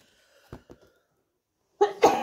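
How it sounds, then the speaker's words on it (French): A few quiet breaths lead into a sudden, loud sneeze close by, bursting out in two quick parts. "je vais éternuer"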